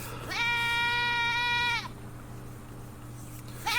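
A goat gives one long, loud, wavering bleat close by, and a second call starts right at the end. A low steady hum runs underneath the whole time.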